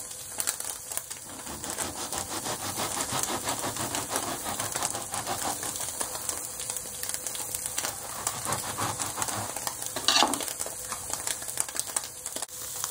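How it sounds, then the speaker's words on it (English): Buffalo tofu simmers in sauce in a pan over medium-low heat, a dense, steady crackle and sizzle of fine popping bubbles, close and continuous, with a slightly louder burst near the end. "create a medium low heat environment and allow the tofu to absorb the sauce"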